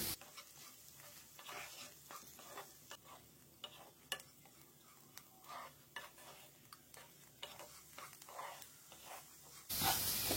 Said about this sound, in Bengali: লো ফ্লেমে ফ্রাই করে নিচ্ছি